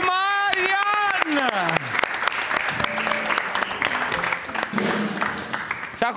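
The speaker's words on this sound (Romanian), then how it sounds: "aplauze pentru Marian!" Studio audience applause for a contestant named Marian on the Romanian game show Roata Norocului, sharp close claps under a loud sung or shouted voice at the start, with more talk and music over the clapping.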